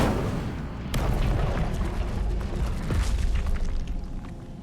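The Incendio fire spell in Hogwarts Legacy lands as a loud, rumbling whoosh of flame with a deep booming burst near the start. It sustains for several seconds with crackling bursts and no talk.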